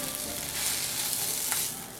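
Onions sizzling in a pan alongside beef liver, a dense, steady frying hiss with faint stirring scrapes, close and fairly quiet, no voices.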